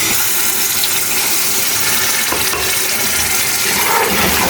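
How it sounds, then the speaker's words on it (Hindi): Water pours into a pot of beef karahi with a steady, loud gushing splash that continues unbroken throughout, with no talking. "इस स्टेज पे मैं इसमें थोड़ा सा पानी ऐड करूँगी।"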